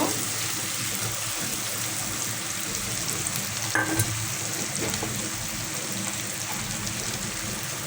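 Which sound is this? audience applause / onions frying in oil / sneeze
onions frying in oil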